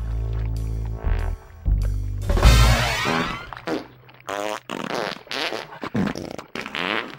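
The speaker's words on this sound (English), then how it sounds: "The cheeky fuckers even managed to make farts sound good." Loud, wet fart noises are played as musical notes in a jazzy video game soundtrack, repeated blasts of varying pitch and length over a bass line and backing music.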